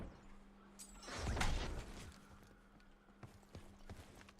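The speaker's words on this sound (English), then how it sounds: "all you hear is this freaking Minecraft footstep audio just back and forth" Footsteps in Call of Duty: Warzone make a faint, clunky ticking: a swelling scuffle of movement, then several sharp, evenly spaced clicks going back and forth over a low steady hum.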